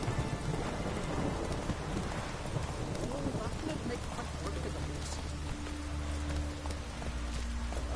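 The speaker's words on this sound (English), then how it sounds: "It's always raining." Steady rain pours throughout a stormy scene in The Witcher, with low rumbling thunder rolling underneath and scattered hoof-like clopping mixed into the wash of noise.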